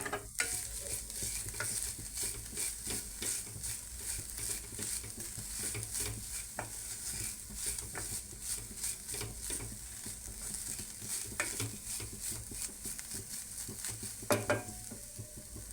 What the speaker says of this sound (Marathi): खसखस थोडीशी परतली गेली याच्यामध्ये आपल्याला एक ओलं खोबरं टाकून घ्यायचं आहे